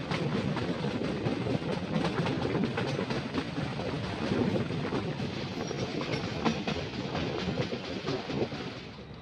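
A meter gauge train runs steadily through jungle country in Uttar Pradesh, giving a continuous rumble and clatter heard from on board, at an even level with no talk.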